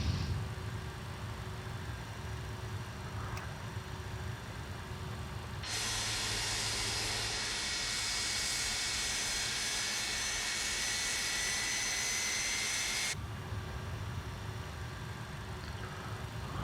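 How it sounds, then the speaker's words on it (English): Jet engine start on a charter flight from HPN to IAD for a hockey team: a low steady hum, then a loud rushing hiss that holds for about seven seconds and cuts back to the quieter hum. "Start left engine."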